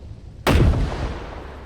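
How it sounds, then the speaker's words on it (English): A single loud gunshot or explosive blast from a military shooter video game, a sharp sudden crack followed by a long rumbling decay, with no talk. "we're going to do the illogical thing and move towards the sound of gunfire"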